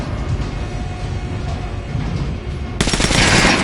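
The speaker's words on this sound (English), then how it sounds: "Now shoot armored dummy." Gunfire rattles against an armored training dummy in the video game Metro Last Light, a low thudding opening followed by a loud burst of rapid automatic shots near the end, with no talk.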